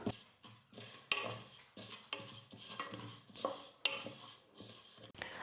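Moong dal roasting and being stirred in a hot pressure cooker over a low flame: repeated scraping and clinking strokes of a ladle against the metal pot, with a soft dry sizzle, close and steady with no talk.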